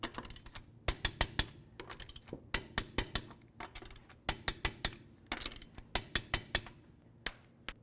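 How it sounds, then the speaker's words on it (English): A wrench ratchets and clicks in sharp bursts while lug nuts are torqued to 80 foot-pounds on a 2007-2012 Nissan Sentra wheel, with clustered metallic clicks and short pauses between, no talk. "now we're going to torque the lug nuts to 80 foot-pounds"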